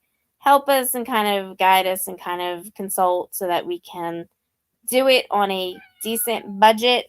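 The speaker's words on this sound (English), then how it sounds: "That is my cat" A house cat meows indoors, its cries blending with and partly hidden under a person's steady, continuous talking.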